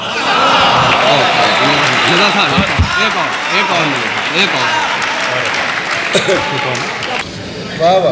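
Audience applause after an Urdu poetry recitation, loud sustained clapping from a crowd that fills the hall, with a voice speaking over it.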